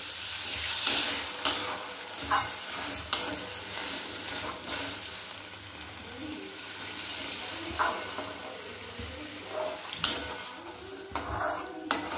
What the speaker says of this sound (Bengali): এবার অল্প জল দিলাম।